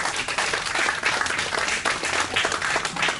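Audience at a Slovenian poetry event applauding, a sustained, dense wash of clapping from many hands throughout.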